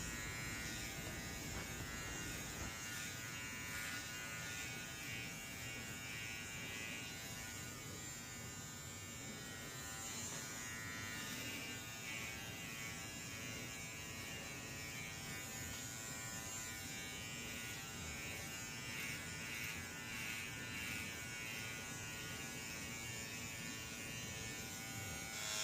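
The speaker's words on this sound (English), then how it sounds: "right here, we're going in with the Andes Masters. I got the clipper like halfway open." An Andis Master hair clipper runs continuously during a fade haircut, a steady close electric buzz with a faint rhythmic rasp as it passes over the hair, unbroken for the whole stretch.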